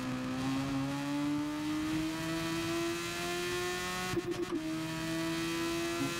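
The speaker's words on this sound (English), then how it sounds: "Oh, it sounds good, this car." A race car engine in the Gran Turismo Sport video game drones with a steady tonal hum that climbs gradually in pitch as it revs, with a brief burst of rattling roughly two-thirds through and no talking.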